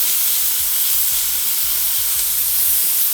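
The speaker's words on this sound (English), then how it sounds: "this will take long to saute" Onions, celery, pimento and sweet pepper saute in a pan for an omelette, giving a constant close hiss and sizzle with faint low knocks and no talking.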